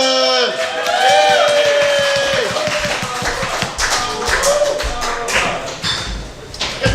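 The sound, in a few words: comedy club audience applause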